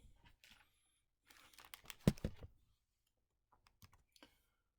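Keystrokes on a computer keyboard entering data, coming in short bursts of clicks with a louder cluster in the middle and a few scattered taps near the end, fairly quiet and close.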